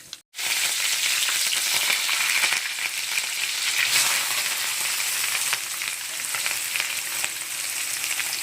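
Cumin and mustard seeds sizzling in hot oil for a Telugu-style potato fry, a steady, dense hiss of frying that holds close and fairly loud throughout with no talking.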